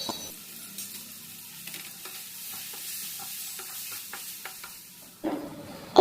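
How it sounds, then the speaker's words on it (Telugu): Spices stirred into bitter gourd frying in a pan: a steady low sizzle with soft scraping strokes throughout, ending in a louder clatter and sizzle burst near the close. "ఇప్పుడు ఇందులోనే రుచికి తగినంతగా కారం, కొంచెం పసుపు, ఉప్పు కూడా వేసుకొని ధనియా పొడి కూడా వేస్తున్నాను, అది కూడా వేసుకొని బాగా కలిపి మగ్గించుకోవాలి."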